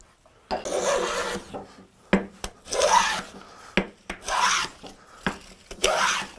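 A hand plane takes repeated long strokes along a tall chunk of walnut held against a planing stop, each pass a close, breathy shearing rasp separated by short pauses and sharp knocks.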